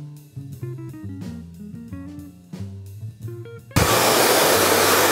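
A handheld hair dryer blow-drying curly hair straight switches on partway through, its loud steady whoosh taking over after a stretch of musical tones and holding to the end.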